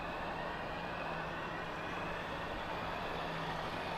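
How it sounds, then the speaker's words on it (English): A steady, low rumble of lorries driving on the road, a continuous engine drone with no breaks or voices. "We got the lorries coming now."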